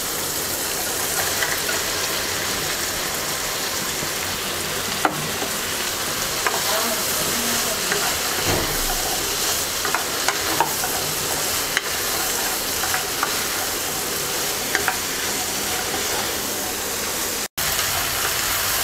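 Okra added to shrimp already cooked down in a pan sizzles and fries loudly and steadily throughout, with occasional stirring scrapes and small clatters.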